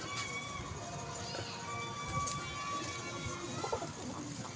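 Pigeons cooing at a pigeon club, a soft steady layer of coos and bird calls under a busy background with faint voices and chatter nearby.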